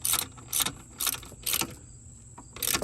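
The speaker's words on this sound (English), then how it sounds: "And now line up the second and tighten up the second one." A 14 mm bolt on a Land Rover Discovery 2 tensioner pulley is tightened with a ratchet, making five evenly spaced bursts of quick metallic clicking, close and crisp, with short pauses between them.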